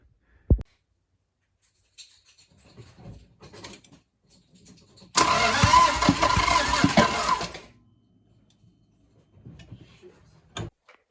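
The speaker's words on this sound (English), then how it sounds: "Let's see if this thing will finally start." A Toyota MR2 with a manual gearbox, spark plug removed, cranks on its starter in one sustained, loud, churning burst of about two and a half seconds, framed by quiet handling noises before and after.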